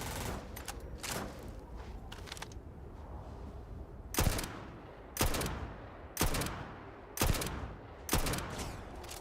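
Gunfire in the video game Starfield: a few quick clustered shots, then five loud, evenly spaced blasts about one second apart, each with a short decaying tail over a steady game background.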